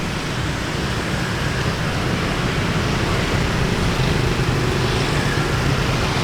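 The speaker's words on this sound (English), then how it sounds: "Traffic noise is loud." Loud, continuous street traffic in District 1 of Saigon, Vietnam: a dense, steady roar of engines and road noise heard close up, with no breaks and no talking.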